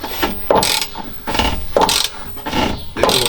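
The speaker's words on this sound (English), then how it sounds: "here it sounds like it's grinding away in there" A TX 375T machine grinds internally against a stuck bolt in rhythmic, repeating bursts of harsh mechanical grinding and ratcheting, close and loud, with short pauses between each pulse.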